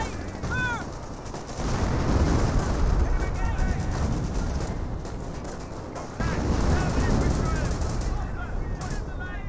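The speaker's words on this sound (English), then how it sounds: "We got a good hit there from officer artillery." Artillery shells burst in the real-time strategy game Company of Heroes, heavy booming blasts and gunfire rumbling continuously under a commentator's voice, with a louder surge of impacts midway.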